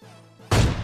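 An AWM sniper rifle in PUBG Mobile fires one sharp, loud, booming report that cuts in abruptly mid-clip and decays with a short tail.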